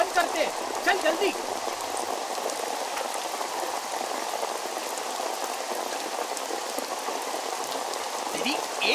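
Steady rain pattering on surfaces, a dense, continuous hiss of drops heard close and fairly loud throughout, with a few faint background sounds and no clear speech.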